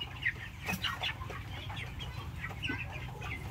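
Poultry chickens resting after feeding on a small farm, scratching and playing in the soil, give out soft scattered clucks and short calls over a low steady background hum.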